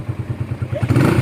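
A nearby motorcycle engine throbs with a steady pulsing beat, then revs louder toward the end.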